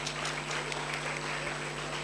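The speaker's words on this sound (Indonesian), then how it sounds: "Tepuk tangan buat rektor kita." Applause from an audience honoring the university rector at a student achievement (Mawapres) event, a steady dense clatter of clapping throughout with faint speech underneath.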